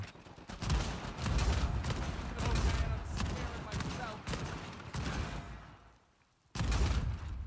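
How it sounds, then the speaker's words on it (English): Gunfire from a gun in a video game, repeated shots in rapid bursts with a brief pause near the end before firing resumes. A voice speaks over the shooting. "I'm getting renegade shots with this gun right now."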